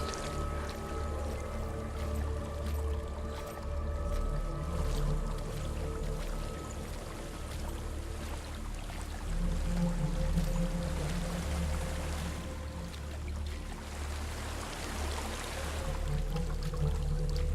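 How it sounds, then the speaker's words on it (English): A waterfall rushes steadily in the game Hellblade: Senua's Sacrifice, a continuous broad wash of falling water with a soft, even roar and faint trickling, heard alone without voices. "There's a waterfall."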